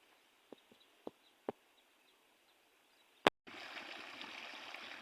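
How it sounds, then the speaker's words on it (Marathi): Irrigation water in farm field furrows: a few faint taps and one sharp knock, then a steady rush of flowing water starts and continues quietly to the end. "आपल्या आता मस्त पाणी चालू आहे"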